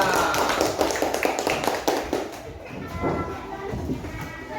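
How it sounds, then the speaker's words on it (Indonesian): A class of students claps for a group after a presentation, brisk overlapping applause from a small crowd that fades midway, with a few scattered claps and background voices afterward. "tepuk tangan untuk kelompok 3"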